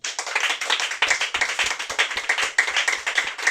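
A church congregation applauding together, dense rhythmic clapping with sharp individual claps standing out, fairly close and steady throughout, no talk over it.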